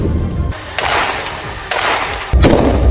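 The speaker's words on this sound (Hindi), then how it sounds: "दोनों तरफ से कई राउंड फायरिंग हुई" Gunfire in a clash between Israeli soldiers and Hamas fighters comes as loud, close bursts of shots, several rounds cracking in quick succession with brief gaps between volleys.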